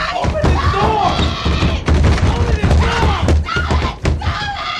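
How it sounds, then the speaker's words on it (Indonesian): Someone pounds repeatedly on a bathroom door, loud close thuds and slams in irregular bursts, mixed with screaming and a raised voice over tense film music. "terus menggedor-gedor pintu kamar mandi"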